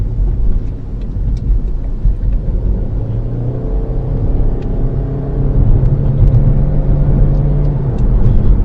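Toyota C-HR crossover, naturally aspirated with a CVT transmission, pulling away under throttle from around 30: a steady low engine drone that swells gradually as it speeds up, heard from inside without talk.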